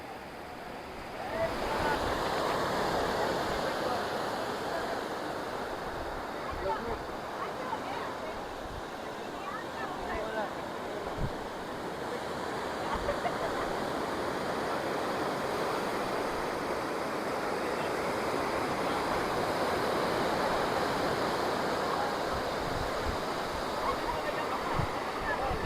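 Arabian Sea waves surge and break against rocky sea cliffs, forming a continuous loud roar with wind buffeting the microphone throughout.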